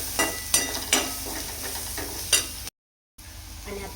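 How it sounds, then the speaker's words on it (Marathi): Onion frying in a pan with turmeric and salt makes a soft sizzle broken by several stirring scrapes and clicks, then a brief cut to silence before the sizzle returns. "आपला कांदा आहे तो मस्त छान भाजून घेतलाय आणि मी ह्याच्यामध्ये ना थोडीशी हळद घातली"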